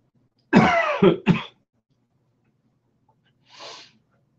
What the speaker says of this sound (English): I'm even coughing away now.